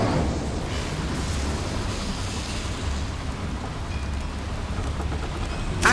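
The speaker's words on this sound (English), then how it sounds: "Incendio!" A fire spell is cast in the video game Hogwarts Legacy, a loud, continuous roaring crackle of flames that holds steady and then flares briefly at the end.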